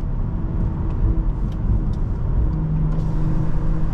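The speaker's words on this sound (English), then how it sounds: "On and off the gas, these pops." A BMW M340i's exhaust burbles in a steady low rumble while the driver works on and off the gas, with a few faint crackling pops.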